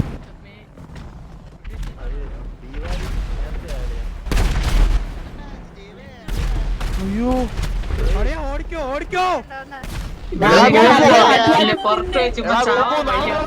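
Bombs and gunfire in a city-based video game make bursts of booms and shots under near-constant excited chatter from players.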